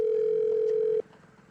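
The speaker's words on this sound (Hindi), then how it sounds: "फोन करके पूछती हूँ कहाँ पहुंचा।" A single steady telephone tone sounds loud and alone for about one second, then cuts off abruptly, leaving quiet room ambience as a phone call is placed.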